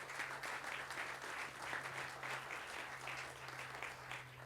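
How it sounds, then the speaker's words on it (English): Audience applause at a Milgard Hall construction celebration: steady crowd clapping, moderately distant and soft, continuing evenly throughout with a low hum underneath. "let's give them all a round of applause as well"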